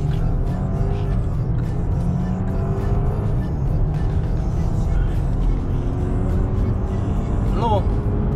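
BMW 520 launching from 3000 rpm and accelerating hard, a loud sustained engine roar from inside the car rising in pitch with gear changes, a brief whine near the end, voices talking over it.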